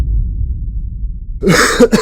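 After a low rumbling lead-in, a person gives a couple of sharp, close coughs in quick succession, loud and alone.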